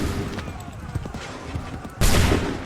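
A musket volley erupts in the Assassin's Creed 3 battle: a dense, sharp burst of many shots firing at once near the end, after a stretch of low rumbling ambience with scattered thumps and distant voices.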